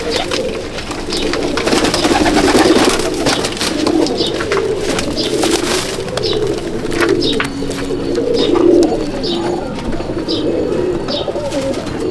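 Pigeons in a loft coo steadily in low, throbbing rolls, several birds overlapping close at hand, with scattered brief clicks and flutters throughout.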